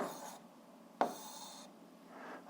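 Chalk or marker strokes scrawling an algebra fraction on a classroom board, a few short scratchy bursts separated by brief pauses, close and fairly quiet with no talking.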